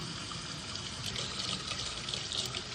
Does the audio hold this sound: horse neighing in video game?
no